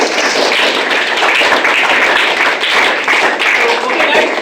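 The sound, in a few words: applause for ju-jitsu coach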